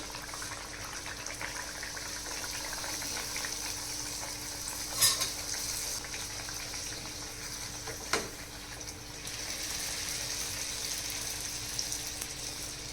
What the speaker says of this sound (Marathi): तेल तापल्यानंतर इथे सावकाश अशी आपण इथे पुरी सोडून घ्यायची आहे